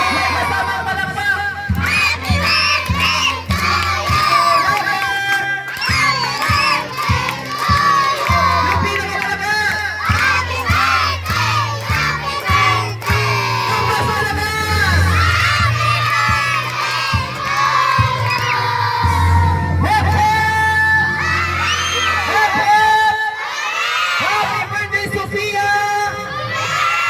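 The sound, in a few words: children cheering loudly with clapping at a birthday party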